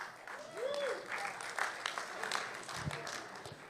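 Small gathering at a Shabbat service gives brief, moderately faint applause, a loose patter of claps over quiet room tone with a few voices.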